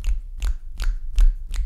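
A person performs a snap clap, pairing a hand clap with a finger snap, repeated five times in an even rhythm, close and fairly loud with no other sound around it.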